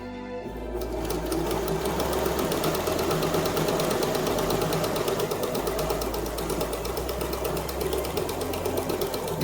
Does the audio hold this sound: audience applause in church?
no